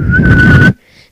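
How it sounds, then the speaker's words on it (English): A short, sustained whistled note held for under a second, loud and close, ending abruptly. "The whistling!"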